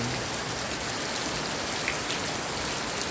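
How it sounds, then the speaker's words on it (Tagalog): Heavy rain pours steadily, a dense, loud hiss of drops drumming on surfaces with no pauses and no voices. "Bigla na lang lumakas ang ulan."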